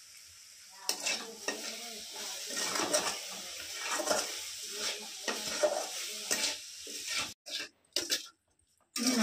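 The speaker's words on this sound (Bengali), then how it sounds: "নারকেল আর গুড় দিয়ে আমি পাটিসাপটা মেরে নিচ্ছি।" Coconut and jaggery filling for palm patisapta pitha cooking in a pan, with repeated stirring scrapes and soft sizzling in uneven bursts, close by, with short pauses toward the end.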